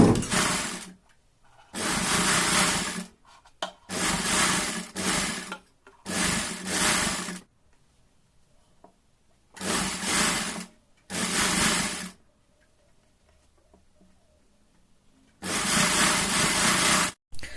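Sewing machine stitching a homemade bra in repeated bursts of one to two seconds, loud close motor whirr starting and stopping with quiet gaps between runs.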